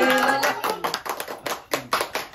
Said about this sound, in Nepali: ल ताली।